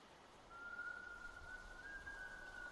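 A single steady whistled tone sounds through a dense forest in the Siren Head horror video game, a thin sustained pitch that holds for about two seconds over a quiet background.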